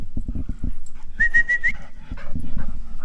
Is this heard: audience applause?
no